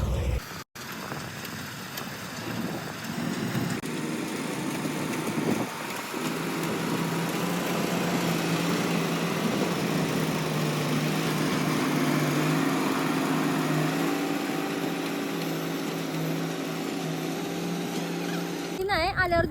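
A wheat threshing machine's engine runs in a village, a steady droning hum held close and loud for the whole stretch, with a brief clack at the start and people talking faintly beneath it.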